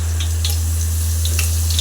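Chopped capsicum frying in oil in a pan, a brief constant sizzle with small crackling pops over a steady low hum.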